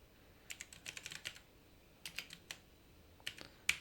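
Keystrokes on a computer keyboard entering a website address, quick clustered taps in short bursts with pauses between, close and fairly soft in a quiet room.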